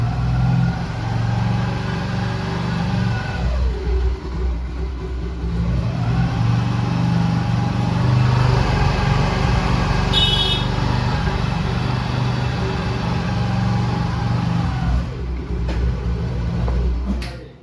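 A TVS Jupiter scooter engine with a misfiring and starting fault runs steadily after being started, a close continuous hum whose revs dip and rise twice before it cuts out.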